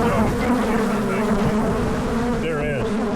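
Dense swarm of angry bees or wasps buzzing around hives at a closed transfer station, a loud, steady close-up drone with individual insects whining past.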